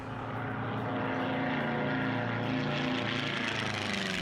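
The racing propeller airplane Monkey Ninja drones steadily nearby, a continuous buzzing engine and prop roar that holds at an even level throughout.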